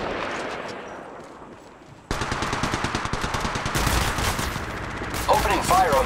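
Rapid automatic gunfire in Apex Legends Mobile, a sustained burst of shots starting abruptly after a quiet moment and continuing loud and steady, with a brief electronic game effect near the end.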